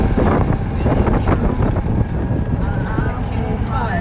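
Strong gusting wind buffets the microphone on an open golf course, a steady loud rumble broken by rushing bursts, with a voice talking partly over it.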